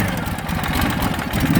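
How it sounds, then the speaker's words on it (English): A 2009 Ural Sahara Limited Edition 2WD sidecar motorcycle with a carbureted engine idles briefly and close by, running slightly lean with a low, uneven chugging pulse. "you hear that just a little bit of a lean condition, a little bit of a backfire"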